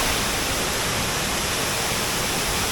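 A small waterfall in Rajapur pours with a constant, even rushing roar, a steady broadband wash of falling water with no breaks or voices.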